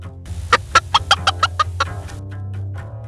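A rooster clucks close by in a lawn, a quick run of about eight sharp rhythmic clucks over a low steady hum, easing off into softer calls.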